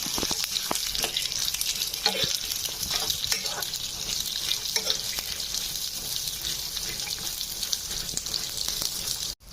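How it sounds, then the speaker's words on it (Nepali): Peanuts frying and being stirred in a pan of hot oil, a steady close sizzle with faint scraping and clinks throughout, ending abruptly. "मेरो तेल गरम भइसकेको छ। यसको बादमा म बदाम दिँदैछु। बदामलाई यसरी म चलाउनेछु।"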